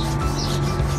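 Poppies and purple flowers are rubbed onto paper in a brief, close, continuous scratchy rubbing with no talk.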